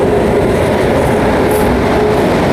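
A Jan Shatabdi Express between Raigarh and Gondia runs steadily, heard from inside the coach as a loud continuous rumble of wheels and rails while it changes tracks, with a faint squeal and no talk.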